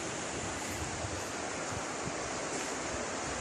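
Fast-flowing canal water beside a jungle near Sialkot makes a steady, dense rushing wash, close and even throughout, with some wind noise on the microphone and no talking.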